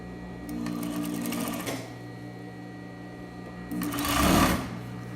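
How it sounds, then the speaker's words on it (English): A sewing machine stitches a waistband at a half-inch seam allowance, running in two steady bursts with a short pause between them and a louder, faster run near the end. "So I'm going to start sewing at 1/2 inch."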